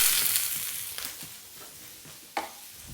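Onion petals frying and charring in a hot pan give a steady soft sizzle with a few light stirring clicks and one sharper crackle near the end, close and alone.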